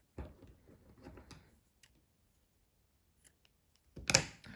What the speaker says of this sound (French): Et je coupe mon fil.